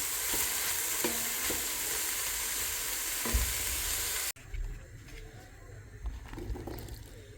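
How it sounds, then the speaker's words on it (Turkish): Two potatoes frying in a pan are stirred and turned over a few times, giving a loud continuous sizzle that drops off abruptly partway through, then quieter clatter and stirring sounds. "Patateslerimi de ekledim. İki tane patates kullandım arkadaşlarım. Şöyle güzelce bir iki tur daha çeviriyorum."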